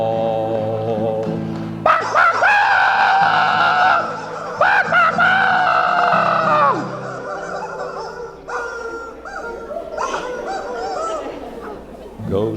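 Voices imitate clucking chickens and a crowing rooster during a comic song, loud honking and squawking bursts rising and falling over a sustained, busy backing.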